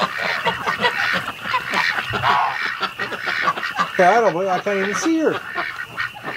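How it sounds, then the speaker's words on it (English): Ducks, including a Muscovy, and geese kept for hatching eggs honk and quack loudly nearby, with a burst of harsh goose honks near the end. Someone talks over the birds throughout. "What's going on, ducks?"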